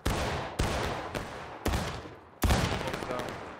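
A gunfire volley rings out as four loud, sharp shots in irregular succession, each cracking close by and fading into a broad echoing tail.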